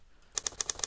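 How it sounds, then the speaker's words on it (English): Keys clicking on a computer keyboard, five or six crisp, evenly spaced taps that start after a short quiet lead-in, close but soft, with no voice over them. "Let's start typing milestones."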